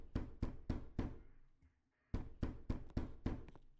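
Knocking on a door in the video game Bou's Revenge: two bursts of sharp, close knocks, four raps, a short pause, then five more in a steady rhythm.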